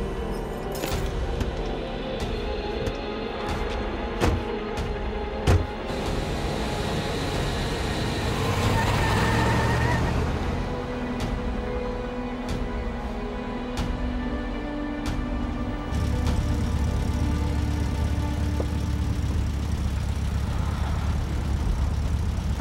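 A car engine drones steadily while driving, with a constant low rumble and road noise, a surge in the middle, occasional clicks and knocks, and people talking over it.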